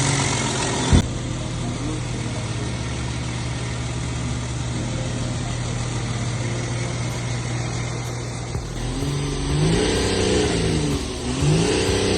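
A Volkswagen engine, hooked up to a hydrogen carbon-cleaning machine through its intake, idles and is revved steadily close by in a workshop, its engine drone rising and swelling toward the end, with a brief knock near the start.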